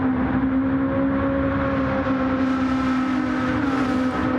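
Porsche race cars in a video game race at Trial Mountain, with steady sustained engine drone and high whine throughout, continuous and fairly loud with no talking.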